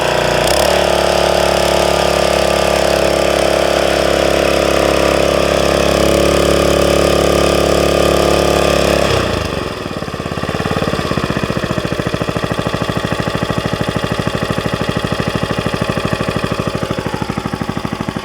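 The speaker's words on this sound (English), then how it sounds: "So this motor will idle with the pump on." Honda GX160 small gasoline engine running on a log splitter with its hydraulic pump engaged, a loud steady close-up idle that shifts and dips briefly partway through, then settles into a rougher, pulsing rhythm with no talking.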